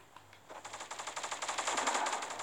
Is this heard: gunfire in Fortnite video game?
yes